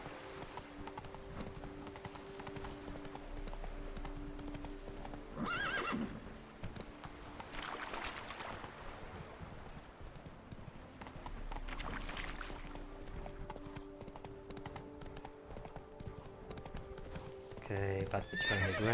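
Roach the horse in The Witcher 3 steps slowly across a bridge, a steady clip-clop of hooves close by with a couple of whinnies, under quiet ambient background and someone talking.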